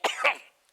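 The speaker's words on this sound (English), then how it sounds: "Damn cough." A single harsh cough from a man performing on stage, bursting out loud and close, followed by a softer second rasp and a short fade into quiet.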